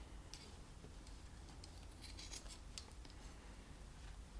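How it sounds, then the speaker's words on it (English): Scissors snip through fabric to cut out the middle of a heart shape, faint sharp crisp snips scattered over a low steady background hiss. "our next step is to cut the middle of that heart out"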